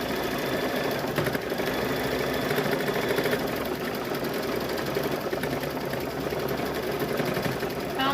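A sewing machine with a single needle stitches fabric for a fall table runner, a steady close mechanical whir with fast rhythmic needle clatter running continuously without pause.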